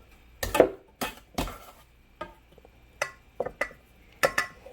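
Batter scooped and transferred from one bowl into another while making vegetarian fried chicken, giving a series of close, separate clinks and scrapes of utensil on bowl with short pauses between them.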